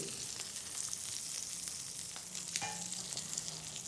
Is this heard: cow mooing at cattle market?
no